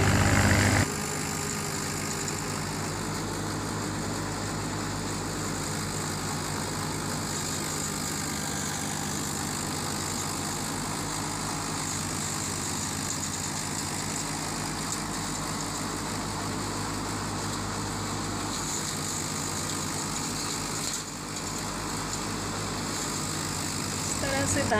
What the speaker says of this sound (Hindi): धान की मनाई होती है क्योंकि ट्रैक्टर में उसको डाला जाता है, उसी में मशीन फिट करके